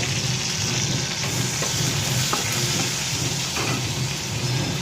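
Bay leaf, dried red chillies and whole garam masala frying in hot oil, giving a dense, steady sizzle and hiss close up that stays constant throughout with faint crackles and no talk.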